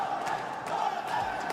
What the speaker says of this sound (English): Chant after chant, screaming the name Godlike